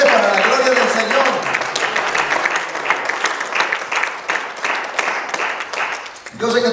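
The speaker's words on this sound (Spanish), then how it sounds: "Cada vez el aplauso va más débil para la gloria del Señor." A church congregation applauding during a Spanish-language service, dense sustained clapping that thins and fades toward the end, with a voice speaking over it.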